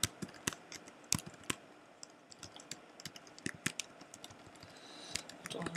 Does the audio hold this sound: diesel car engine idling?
no